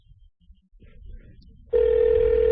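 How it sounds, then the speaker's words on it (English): A telephone ringback tone sounds on an unanswered call, a steady loud electronic tone that starts abruptly after a few soft handling noises and continues to the end. "How come she's not picking up?"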